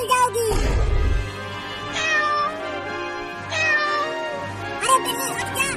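A cartoon cat meows several times, loud and close, the drawn-out cries coming in separate bursts with short gaps between them.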